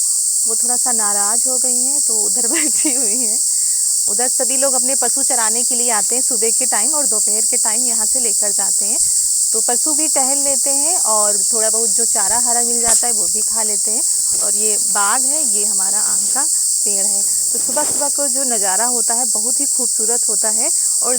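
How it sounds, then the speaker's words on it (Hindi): Continuous high-pitched cricket chirring fills the background in an orchard while a person talks steadily over it. "बहुत ही ज़्यादा झींगुर बोल रहे हैं यहाँ पर"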